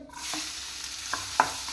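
Onions being sautéed in a pan give a steady broadband sizzle throughout, with a few soft scraping stir strokes near the end and no talking.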